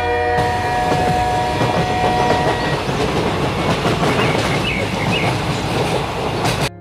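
A train runs on its rails with a steady, loud rumble and rhythmic clickety-clack of wheels over track joints. Faint squeals ride on top of the rolling noise, and nobody speaks.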